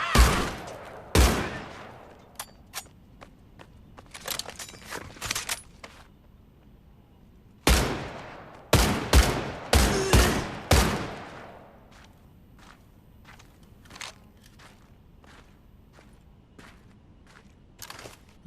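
A Gewehr semi-automatic rifle in the Medal of Honor video game fires in quick bursts of loud, sharp cracks, separated by quiet pauses and trailing into faint clicks and footsteps.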